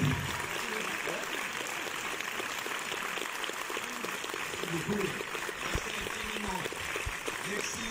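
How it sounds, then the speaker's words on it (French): An audience at a film premiere gives Fabrice Luchini sustained applause, a steady dense wash of clapping throughout with a voice speaking over it. "un tonnerre d'applaudissements pour Monsieur Fabrice Lucchini"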